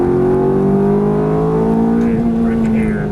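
A Ferrari F430 engine on track accelerating hard out of a turn, a loud, close, rising engine tone with steady rising pitch throughout.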